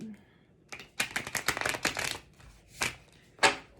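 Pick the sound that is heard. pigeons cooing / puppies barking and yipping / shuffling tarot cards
shuffling tarot cards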